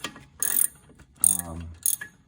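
Ratchet working loose a front brake caliper bolt on a 2013 Chevy Cruze, three quick bursts of close, sharp metallic clicking separated by short pauses.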